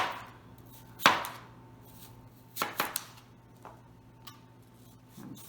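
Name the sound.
knife cutting a Cosmic Crisp apple into thin slices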